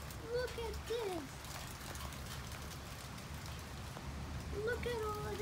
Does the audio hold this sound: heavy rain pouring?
yes